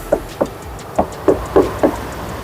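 Six dull, solid knocks by hand on a sound-deadened Hyundai H1 van body panel, with the engine idling. They come close and loud in an uneven rhythm over a low hum.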